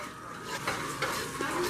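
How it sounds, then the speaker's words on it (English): A spoon stirs pepper through pasta sauce in a pan for a gluten-free shrimp pasta, giving soft scraping and a light sizzle, close and brief, with no voices. "Just stir it around and get the pepper moving inside the sauce."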